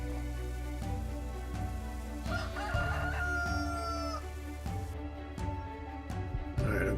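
Chickens in Farming Simulator 25, on an Alaska farm, crow and cluck at moderate level over a steady low ambient hum, with a rising crow in the middle and no talking.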